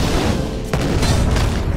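Missile impacts in the Hearthstone card game, a run of dull booming hits and pops, loud and close, packed tightly together over a steady rumbling bed.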